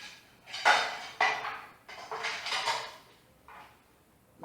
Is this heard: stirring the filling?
yes